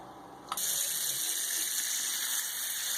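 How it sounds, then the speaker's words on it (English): Water gushes steadily from a house spigot on a system with a Franklin Electric SubDrive constant-pressure well pump, a sudden loud broadband rush that starts after a brief quiet moment and holds even and close. "I'll run some water and I'll show you the spigots this time"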